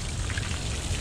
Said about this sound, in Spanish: Qué manera de llover torrencialmente.